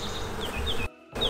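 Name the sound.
honeybees buzzing in opened hive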